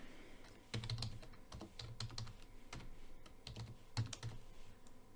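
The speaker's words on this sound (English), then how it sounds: "Let's save the changes with Ctrl S on our keyboard." Keys clack on a computer keyboard as a save shortcut is pressed: a few quick, close, crisp key taps in small clusters, with no talking.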